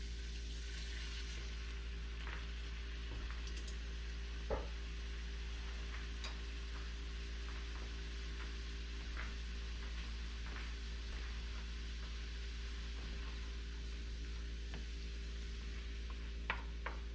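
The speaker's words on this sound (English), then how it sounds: "Mix that all in. 3 to 5 minutes, let it saute." Braised short rib with stock sautéing on medium-high heat gives a soft continuous sizzle with occasional stirring clicks and light pan taps under a steady low hum, with no talking.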